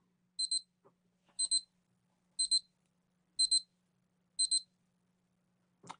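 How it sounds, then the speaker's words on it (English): A small electronic alarm on a waterproof pedometer wristwatch beeps in short double pulses, five bursts about a second apart, high-pitched and clean against a quiet room. "So I will wait till 9:05 so we can hear what the alarm sounds like."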